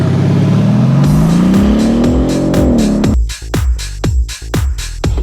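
A 2013 Mercedes-Benz SL550 roadster with a twin-turbo engine roars hard under full acceleration, its rising drone climbing steadily before a series of quick upshifts chop it into loud, punchy bursts.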